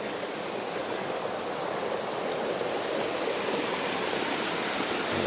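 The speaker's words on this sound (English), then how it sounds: "Stream coming right down the path here." Rainwater streams down a muddy path after two weeks of rain, a loud, continuous rushing hiss of running water close by with no voices.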